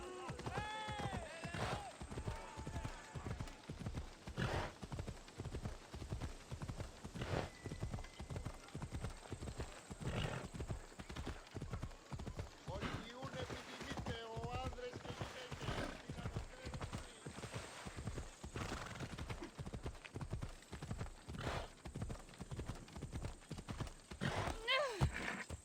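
Horse hooves clip-clop in a steady, even rhythm in a video game, close and clear, with occasional neighs and whinnies over the top and no talk.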